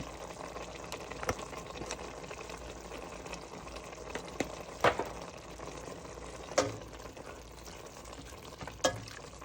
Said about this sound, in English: I'm letting it cook because I want those peppers and onions, that flavor to cook off in it.